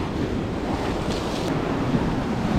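Ocean surf rolls onto Ettikkulam beach in a steady, loud wash of breaking waves, with gusty wind buffeting the microphone throughout and no voices.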